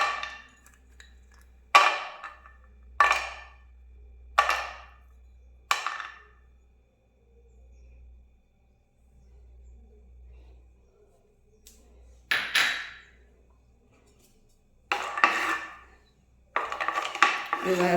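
Cashews and raisins frying in ghee in a kadai while making bread halwa, heard as a series of sharp metallic clinks and scrapes of a spoon against the pan, some closely spaced and some spread out, with a faint low hum beneath.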